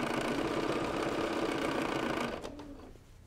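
A sewing machine runs fast and steady, stitching binding onto a quilt edge with a stitch-in-the-ditch foot, a close continuous whir for about two seconds before it slows and stops.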